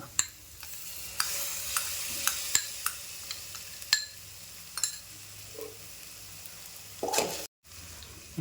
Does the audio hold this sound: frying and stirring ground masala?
yes